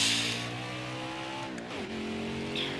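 Race car engine droning steadily through laps in an Xfinity Busch Series racing game, with a brief drop in pitch as the car lifts and downshifts before it climbs again, plus light tire noise and no talking.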